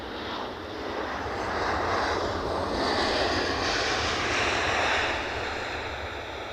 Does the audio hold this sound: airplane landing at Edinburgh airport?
yes